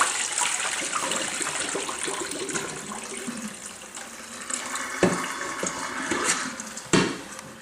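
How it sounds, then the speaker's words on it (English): Water is poured off cherries in a pot, a steady rushing splash and trickle that runs for several seconds, broken by a couple of sharper clunks near the end. "now I'm going to dump off all the water"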